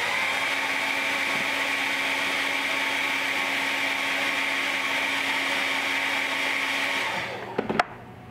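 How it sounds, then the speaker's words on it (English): A hair dryer is used while working on a custom 1/4 scale Spiderman figure. It gives a loud, steady whooshing roar for about seven seconds, then cuts off with a few close clicks. "Hand out the hair dryer."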